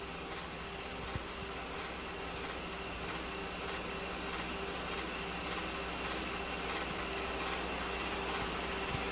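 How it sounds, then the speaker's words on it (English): A subway train crossing elevated over South Bronx streets toward the 149th Street and 3rd Avenue station, a steady, dense rumble and hum with continuous broadband rail noise, no speech. "the train crosses over the various streets leading from the Westchester Avenue line down into the station at 149th Street and 3rd Avenue"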